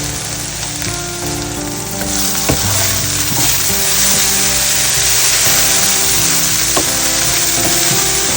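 Chopped tindora (ivy gourd) fries loudly in oil for a Kerala-style mezhukkupuratti, with a constant bright sizzle and a few knocks and scrapes as it is stirred in the pan, close and intense.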